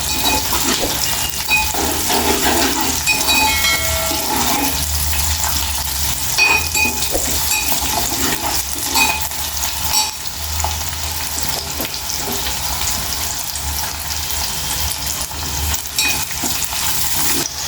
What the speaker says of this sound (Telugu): అల్లం పేస్ట్ పచ్చివాసన అయ్యే వరకు ఎంపుతున్నాం